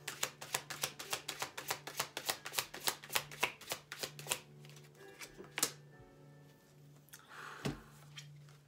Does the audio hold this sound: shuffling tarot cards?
yes